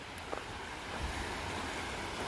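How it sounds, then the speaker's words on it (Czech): Rock Creek flows outdoors in the evening, a steady, fairly quiet broadband rush of moving water with no talking. "tohle je Rock Creek"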